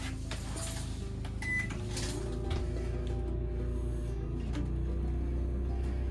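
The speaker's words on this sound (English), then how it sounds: "I'll just turn the microwave on." A microwave oven running on a portable generator: a steady electrical hum with a low droning tone runs throughout, with a few faint clicks and knocks near the start.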